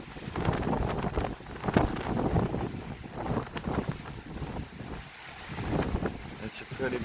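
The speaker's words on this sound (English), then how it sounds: "it's a pretty bad wind right here" Strong hurricane wind from Idalia's first bands buffets the microphone at an RV site in a constant roaring rush with gusty surges, and someone speaks briefly over it.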